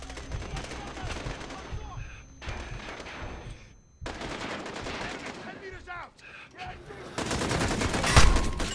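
Rapid automatic gunfire in Call of Duty Modern Warfare, loud sustained bursts broken by short pauses, with heavier, denser shooting toward the end.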